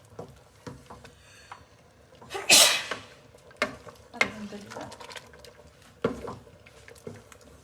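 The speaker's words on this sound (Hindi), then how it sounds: "डोई की मदद से घोटेंगे इसको" Cooked sarson ka saag mashed by hand with a wooden ladle in a pot, a series of soft wet squelching presses and scrapes at an uneven rhythm, close and fairly quiet, with a louder sharp burst in the middle.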